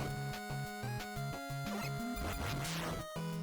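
Mega Man 5 game audio: rhythmic, evenly spaced shooting and sliding effects tick over looping chiptune music, with a brief rising sweep near the end, all loud and with no voice.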